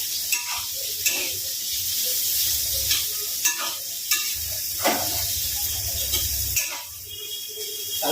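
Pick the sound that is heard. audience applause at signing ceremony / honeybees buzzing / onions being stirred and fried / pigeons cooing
onions being stirred and fried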